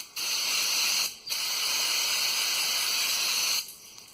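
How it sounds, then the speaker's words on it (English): A loud, steady aerosol spray of brake cleaner hisses in two long bursts with a brief pause between, close up and with no talking, cleaning the bores of a 1997 Chevy 1500 NP243 transfer case. "Spray off with some brake clean."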